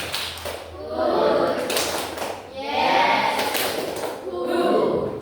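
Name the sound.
class clapping a 3-2-1 clap rhythm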